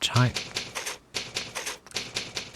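Typewriter keys clack in the video game Fallout 4, a quick run of sharp repeated strikes in an uneven rhythm, with a voice talking over them.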